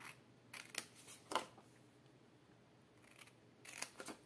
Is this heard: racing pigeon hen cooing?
no